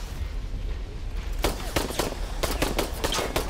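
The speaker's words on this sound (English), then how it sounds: "No, he's shooting at us" Gunfire from an enemy ship in the game Sand: after a second of engine rumble, sharp loud shots crack out in a quick irregular series of about eight reports.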